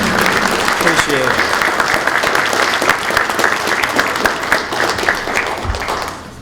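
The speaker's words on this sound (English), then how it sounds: "give them a round of applause for being here" A seated audience at a 2020 town deliberative session breaks into sustained, loud applause for the local police and fire chiefs, the dense clapping filling the room evenly before tapering off at the end.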